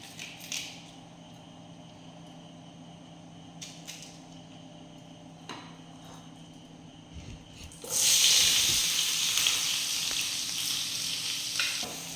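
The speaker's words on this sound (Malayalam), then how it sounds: "ഒരു രണ്ട് വലിയ സവോളയും ഒരു കറിവേപ്പിലയും രണ്ട് മൂന്ന് പച്ചമുളകുമാണിത് ഇതൊന്ന് വഴറ്റിയെടുക്കാം നമുക്ക്" Two large onions, curry leaves and green chillies hit hot oil. Quiet clinks and a low hum give way partway through to a sudden loud, sustained sizzle that continues to the end.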